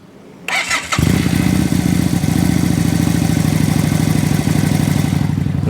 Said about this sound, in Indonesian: itu baru suara mesin idlingnya teman-teman, kayak gini.